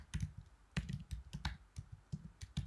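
Fingers tap on a computer keyboard in quick, uneven clicks, close and crisp, with short bursts of keystrokes separated by brief pauses.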